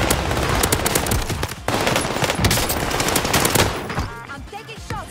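Gunfire in the Warzone video game, with loud, dense automatic bursts and rapid shots that fill nearly the whole stretch before thinning out near the end.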